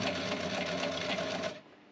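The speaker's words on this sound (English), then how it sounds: "it's a lot of sewing" A sewing machine runs fast and steady aboard a sailboat anchored in the San Blas Islands, a close continuous mechanical whir with rapid stitching pulses that cuts off near the end.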